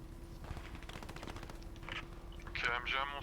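Machine gun fire in the Post Scriptum tank battle video game, a quick rattling burst of repeated shots, fairly faint and distant under a steady engine hum, with a voice speaking briefly near the end.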